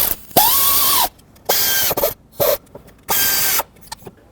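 Power ratchet snugging valve cover bolts on a Chevrolet Express engine, three loud buzzing runs of about half a second each separated by brief pauses and clicks, close by, no voices.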